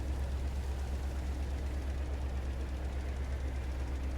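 A small Ford tractor in Farming Simulator 22 runs with a steady, low, rumbling engine drone at an even level throughout, with no talking.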